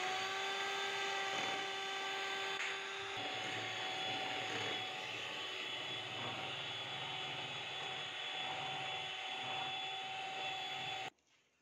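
An electric hand beater whirs steadily and loudly through cake batter with oil added, a continuous motor drone with tonal whine that runs for about eleven seconds before cutting off abruptly.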